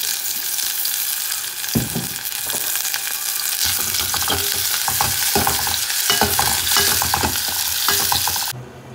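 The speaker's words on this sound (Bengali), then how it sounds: "এখানে পেঁয়াজ রসুন দিয়ে দিচ্ছি, দিয়ে দিলাম অলিভ অয়েল, তেল।" Onion and garlic fry in olive oil as a dal tempering is prepared, a steady loud sizzle with intermittent stirring scrapes and clatters throughout, no talking.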